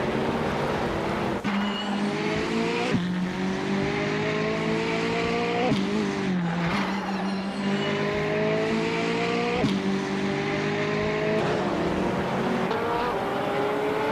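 Porsche 911 RSR race cars, including a 2017 model, scream around Oran Park in a racing video game, engines droning loud and continuous with rising and falling pitch through gear shifts.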